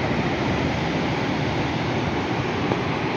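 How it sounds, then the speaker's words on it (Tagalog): Ocean waves wash up on a beach at El Nido, Palawan, in a dense, continuous broadband roar of surf and wind, loud and close, with no voices. "Nakaabot pala dito. Nakaabot yung alon."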